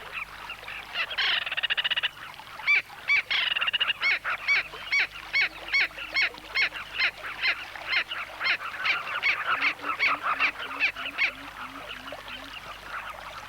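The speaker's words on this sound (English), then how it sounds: "Our kingfisher proclaims its annoyance very loudly." A giant kingfisher gives loud, repeated harsh calls in rapid bursts, close and insistent, with a short pause before the sharp chatter resumes and carries on steadily.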